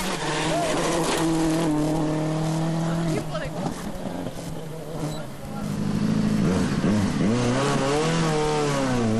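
A Peugeot 307 WRC rally car drives a stage of the 2006 Rally of Spain, its engine revving hard through gear changes, with a dip and a renewed surge and a commentator talking over it.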